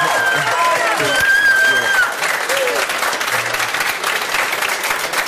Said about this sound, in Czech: Velký potlesk pro ně.